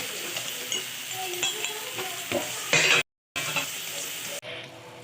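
Semolina sheera cooking in ghee as sugar and dry fruits are stirred in, with a spoon scraping and clinking against the pan over a soft, continuous sizzle, close up; a brief cut to silence partway through.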